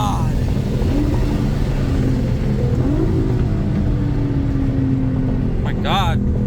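A Nissan R35 GT-R engine revs and downshifts during spirited driving, a loud continuous roar with rising and falling pitch from inside the car and a brief chirp near the end.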